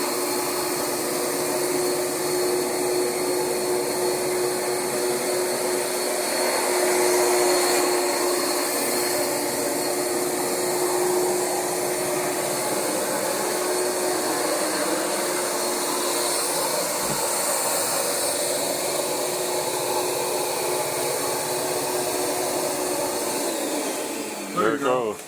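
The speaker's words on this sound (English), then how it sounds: "As you can see, the rug doctor is amazing." A Rug Doctor carpet cleaning machine runs continuously, a loud, steady motor whine with a high hum, unbroken for the whole stretch before cutting down briefly at the end.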